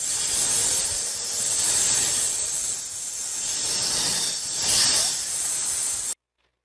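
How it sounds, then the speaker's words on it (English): A snake's hiss, a loud, steady breathy rush swelling and easing in a few long waves before cutting off abruptly. "It is the sound of a snake."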